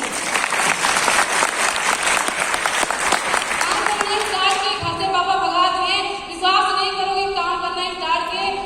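Audience applause ringing out at a smart-value business event honoring a housewife's success, dense clapping for about four seconds before giving way to a voice and tonal sounds over fading claps.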